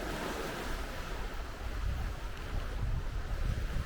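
Surf washing against the rocks of a small harbour on the northeast coast of Scotland, a steady broadband wash with gusty wind buffeting the microphone, moderately loud with no voices.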